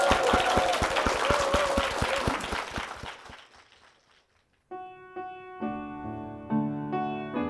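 A church congregation applauds with dense, rapid clapping that fades out, after which sustained organ or keyboard chords begin.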